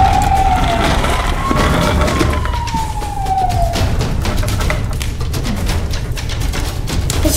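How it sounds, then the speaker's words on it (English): A toy ambulance siren wails in sweeping, falling tones, then gives way to rapid repeated clicking or tapping sounds, fairly loud and close. "Oh, I hear the ambulance coming."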